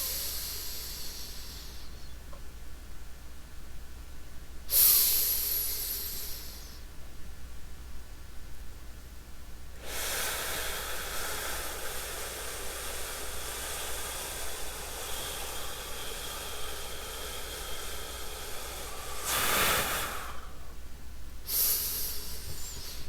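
Slow, deep breaths during a calm breathing exercise, a few long airy inhales and exhales separated by quiet gaps, close and fairly soft with no talking.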